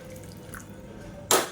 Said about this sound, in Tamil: இந்த ஸ்டேஜில் நல்லா கொதிக்கிற தண்ணியை சேர்த்துக்கோங்க